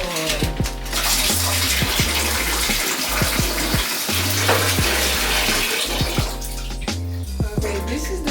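Water runs steadily and loudly from a tap while a dog is bathed, a continuous splashing rush throughout with some low irregular knocks and gurgles underneath.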